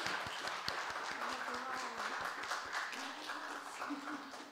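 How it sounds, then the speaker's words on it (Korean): An audience at a Christian worship gathering claps in a steady rhythm, sharp regular claps running under singing voices throughout. "박수."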